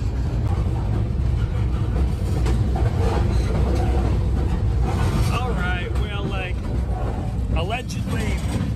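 A passenger train creeps slowly through a rail yard on the Cheyenne, Wyoming to Denver, Colorado route, giving a steady low rumble close by, with faint squeals rising near the end.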